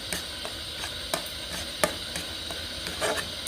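Mango sandesh mixture stirred in a pan, a spatula scraping and tapping the pan in a steady irregular rhythm over a faint background hum.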